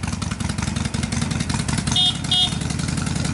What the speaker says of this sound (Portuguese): Motor de Fusca!